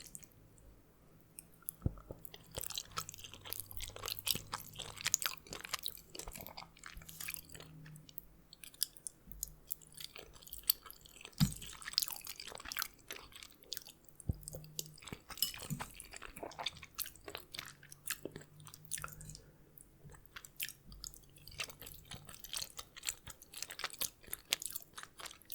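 Close, intimate chewing and crunching of homemade food, with wet bites and squishy mouth sounds repeating steadily and irregularly over a long stretch, with no talking.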